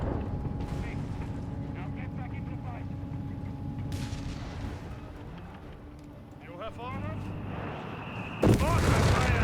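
Two MG42 machine guns fire in a Company of Heroes 3 battle, rapid bursts among booming explosions and artillery, with a commentator talking over the combat.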